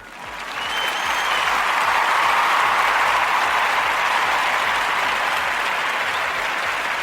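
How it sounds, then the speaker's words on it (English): Sustained applause from a crowd cheering student volunteers who gathered fresh produce for local families, loud and steady for several seconds after a quick swell, with no talking over it. "round of applause for them"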